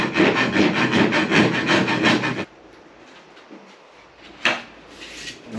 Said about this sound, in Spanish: luego igual lo rasparé con la lija esta para abrir un poco más la apertura